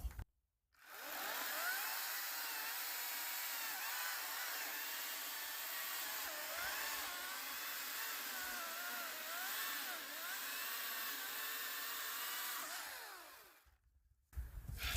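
A cordless Ryobi 40V battery chainsaw cuts through 14-inch poplar logs, a steady high-pitched motor whine and cutting roar holding for about thirteen seconds before stopping abruptly, then a brief restart at the end.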